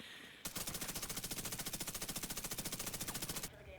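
Sustained automatic gunfire from a weapon fired from the hip in The Division 2, a rapid, loud, even burst of shots lasting about three seconds that starts and stops abruptly.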